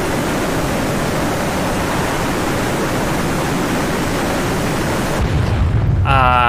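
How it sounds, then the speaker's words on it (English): Missile launches from the Tarawa in DCS World: a loud, sustained roaring rush fills the clip, then cuts to quieter sound with a rising tonal whine near the end. "Counterfiring missiles from the Tarawa."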